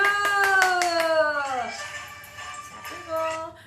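Several quick hand claps in a steady rhythm during a health exercise step dance, heard close under a sliding voice calling out the moves, then a pause before the voice resumes.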